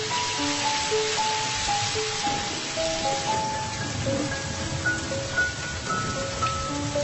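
Steady rain falls in a continuous dense hiss, with a faint tonal melody running above it and no talk.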